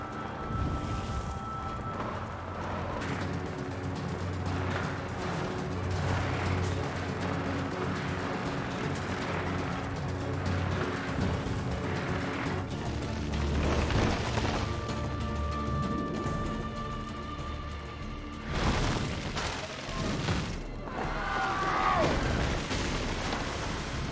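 Explosions and loud crashes in Assassin's Creed II, taken for firecrackers, bursting at irregular intervals over a continuous rumbling game backdrop, with a louder cluster of bangs late on.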